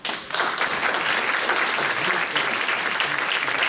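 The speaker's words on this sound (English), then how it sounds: "how about a round of applause for" An audience at a town hall meeting in Journal Square breaks into sustained, dense applause that starts abruptly and holds steady at a strong, even level throughout.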